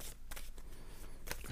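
Tarot cards being cut by hand, a few soft papery riffles and slaps, close and quiet, with brief bursts of card noise separated by near-silence.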